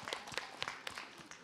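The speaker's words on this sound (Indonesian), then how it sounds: "Masya Allah tepuk tangan." A studio audience gives a brief, faint burst of scattered hand clapping, quick uneven claps over a soft background.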